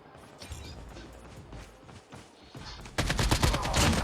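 Gunfire in a Call of Duty game: scattered shots and mechanical clicks at first, then a loud rapid burst of automatic fire in the last second.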